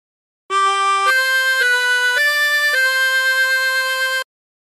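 A chromatic harmonica plays phrase four of the hymn Nearer My God to Thee as five sustained, clear reedy notes in a slow stepwise line, each held about half a second, close and alone in silence.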